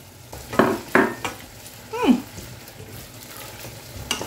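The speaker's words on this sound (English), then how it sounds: "add the onions. Stir for a bit." Onions stirred in a hot pan with red palm oil for a vegan Nigerian pumpkin dish: a few sharp scraping stirs and a short sizzle, close and brief, over a low frying hiss.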